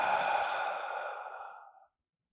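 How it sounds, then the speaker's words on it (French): During a guided yin yoga breathing exercise, one long, deep exhale through the mouth, a breathy sigh, close and soft, fading out toward silence. "et une grande expire par la bouche"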